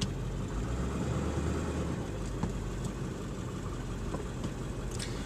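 A 2002 Ford 7.3L Powerstroke diesel converted to run on CNG idles steadily with a low, even rumble, some faint clicks over it, in a busy city setting.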